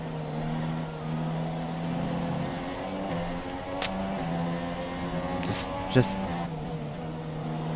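Formula 1 racing cars in the F1 2017 racing game, a steady high engine whine with harmonics shifting as gears change and a few brief sharp clicks, while a voice talks over it.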